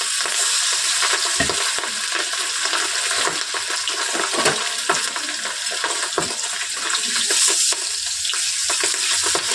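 Hilsa fish frying in hot oil in a pan, a steady loud hiss and crackle throughout with no voices.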